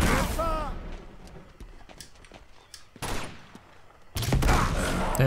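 Enemy gunfire in the video game Uncharted 2, with scattered sharp shots and short bursts between quieter stretches, then a loud burst of fire at the end, with voices heard in between.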